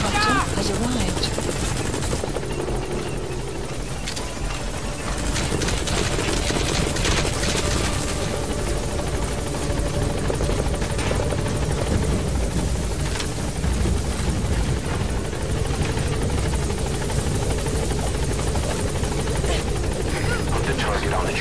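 A military helicopter from Metal Gear Solid V: The Phantom Pain idles at a landing zone, its loud, continuous rotor thrum filling the whole stretch, with voices talking and some clattering underneath.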